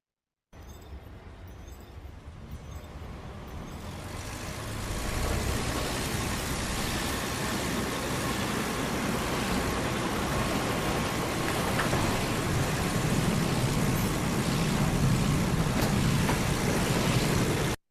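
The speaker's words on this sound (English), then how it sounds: "I also spent quite a lot of time designing a sound for a spaceship. Let me play you the spaceship here." A designed spaceship sound effect built from blended realistic engine recordings: a low, rumbling drone that swells in after a few seconds and holds a steady, dense hum to the end.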